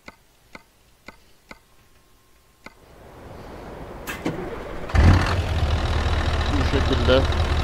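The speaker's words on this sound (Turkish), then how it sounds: "Aracımızı bir çalıştıralım isterseniz" A Scania R420 truck in Euro Truck Simulator 2 clicks a few times, then its diesel engine cranks into life with a rising roar and settles into a loud, steady idle.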